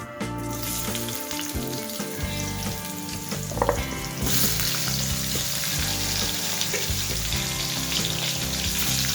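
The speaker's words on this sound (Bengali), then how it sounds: "আলুগুলোকে সামান্য একটুখানি ভেজে নেব" Potatoes frying in hot oil with black cumin for a Bengali fish curry, a loud continuous sizzle with stirring scrapes that grows fuller and louder partway through.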